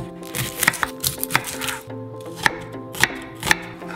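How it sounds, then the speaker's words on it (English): Onions being chopped with a knife on a cutting board in a home kitchen while making a keto, gluten-free sweet potato quiche: close, crisp chops in an uneven rhythm with a few sharper strikes and no talking. "first we're gonna chop the onions"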